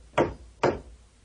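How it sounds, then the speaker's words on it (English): A hammer drives nails on a wooden workbench with two sharp, close knocks about half a second apart, each followed by a brief decay into quiet. "You can hammer nails on a workbench."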